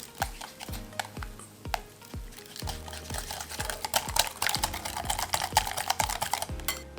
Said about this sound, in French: Je viens ensuite mélanger ma préparation.